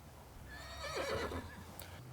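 A horse in a stable gives a clear, fairly close whinny rising and falling in the middle of a quiet stretch, with faint hoof sounds around it.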